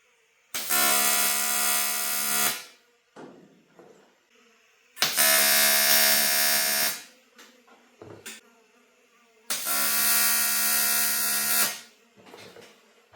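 TIG welder laying beads while fabricating a custom front bar: three sustained bursts of steady, loud buzzing hiss, each about two seconds long, separated by brief quieter gaps with small clanks and shuffling.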